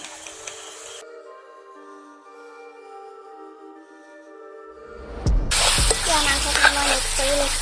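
Chicken pieces are dropped into frying masala in a pan: quiet at first, then a sudden loud burst of crackling sizzle that keeps spitting and bubbling close by.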